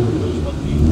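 A race car engine idles and revs at Vinstra Motorsport Arena, a steady, loud mid-range drone that swells slightly toward the end, with speech faintly underneath.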